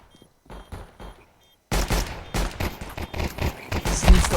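Dense, loud gunfire and explosive game effects erupt after a near-silent moment in a Counter-Strike style bot match, following a few softer clicks and shots.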